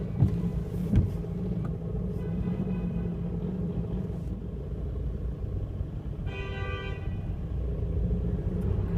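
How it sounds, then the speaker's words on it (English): Busy, cramped street traffic in Brussels with buses and taxis, a steady low rumble of engines close by, a brief horn toot partway through, no voices. "This is the main Turkish street here in Brussels, and it's always cramped. There's buses, taxis"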